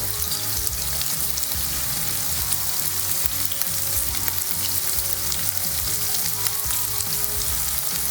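Potatoes frying in a pan for an egg and potato hash, a loud, even crackling sizzle that runs unbroken and close throughout, with no one speaking.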